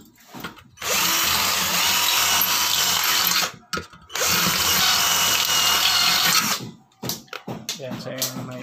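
Power drill with a larger bit widening a hole while fitting a crossbar to a screen door, two long steady whirring bursts of about three seconds each, loud and close, followed by short clattering handling sounds.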